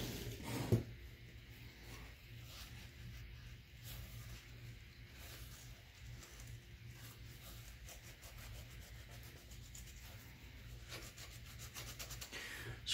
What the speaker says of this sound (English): I generally just rub off the thermal compound that's on the cooler and on the processor